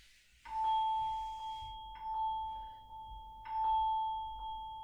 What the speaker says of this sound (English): there's a bell